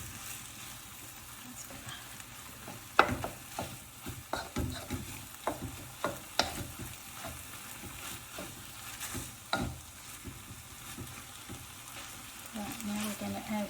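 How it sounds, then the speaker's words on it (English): Mince dusted with a little corn flour sizzles and fries steadily in a pan. A constant crackle runs under scattered clicks and scrapes from stirring, heard close up and with no talking. "And we get back to nice sizzle and fry."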